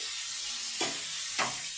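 Pumpkin slices fry in a pan over a medium gas flame, giving a steady soft sizzle with two brief stirring scrapes, close and moderately quiet, with no voices.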